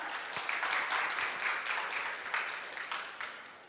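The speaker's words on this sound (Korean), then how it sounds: "여러분, 큰 박수로 맞이해 주시기 바랍니다." Audience applause at a food and restaurant industry outlook conference greeting a presenter as he comes up to talk about serving robots, a steady crowd of clapping that carries on for several seconds and tails off slightly toward the end.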